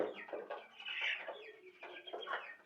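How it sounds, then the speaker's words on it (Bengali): Broiler chickens cluck and murmur on a poultry farm while eating, a soft continuous chorus heard faintly from a little distance. "আমি আপনাদের আমাদের মুরগিগুলো দেখাবো যে কী অবস্থা আছে মুরগিগুলো"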